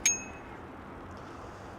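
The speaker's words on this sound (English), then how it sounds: "And a good decent bell." One bright metallic ding of a bicycle bell on an HNF-Nicolai CD1 cargo e-bike, quickly fading into steady background hiss.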